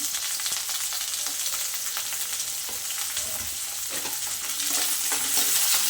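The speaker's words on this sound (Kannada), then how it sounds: "ಇವೆಲ್ಲ ಆಯಿಲಲ್ಲಿ ಚೆನ್ನಾಗಿ ಫ್ರೈ ಆಗಬೇಕು" Green chilli and ginger frying in oil for a village-style avarebele curry, a continuous dense close sizzle with occasional stirring taps, growing slightly louder toward the end.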